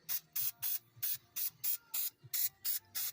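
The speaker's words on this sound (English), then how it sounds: "we're gonna put the rotor on, spray some surface shield on here" Short bursts of aerosol surface shield sprayed onto a brake rotor of a 2004 Toyota Sienna, about nine quick hisses in a steady rhythm with brief gaps between, close to the listener and without talk.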